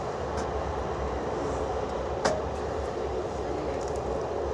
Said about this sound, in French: Il y a le TGV Atlantique, les amis.